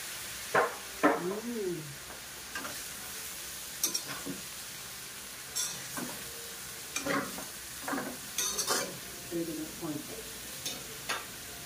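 Fish sauce stirred into spices sizzling in a pan, with faint frying hiss under repeated sharp scrapes and clinks of a utensil against the pan, spaced irregularly and fairly quiet.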